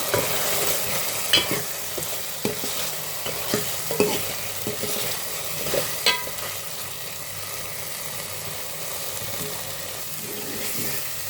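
Ginger garlic paste, coconut masala and chili powder fry in hot oil in a pan for an aloo egg curry, a steady sizzle with occasional spoon scrapes and stirring knocks, no voices.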